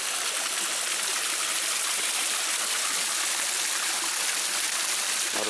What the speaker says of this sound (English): Waterfalls all the way up.